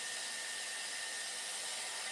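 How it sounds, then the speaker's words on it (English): A hair dryer blows steadily with a constant, airy whoosh and high hiss, unchanging and alone. "Just use a hair dryer and a big round brush."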